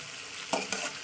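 Food fries in fish oil with salt and turmeric in a pan, a continuous hiss with two brief bursts of louder sizzle as it is stirred.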